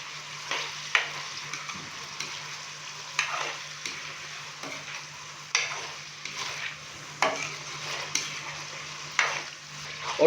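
Beef frying in oil in a pot with ginger-garlic paste for daal mash gosht: a steady close sizzle broken by repeated scraping stirs every second or two, with no talking.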